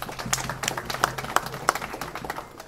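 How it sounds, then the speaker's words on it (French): People at an official French commemoration ceremony clap, a modest, uneven round of applause from a small gathering with a few sharper individual claps standing out. "On peut applaudir très fort, s'il vous plaît."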